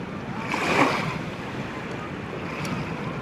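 Steady wash of Adriatic Sea surf at Falconara, Italy, with wind rumbling across the microphone, a wave surging a little louder near the start before settling into a constant roar.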